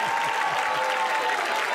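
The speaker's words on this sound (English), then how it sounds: "Somebody clap your hands and give him praise." Rhythmic hand-clapping from a church congregation during a gospel praise moment, even and steady across the short stretch with a faint sustained tone underneath.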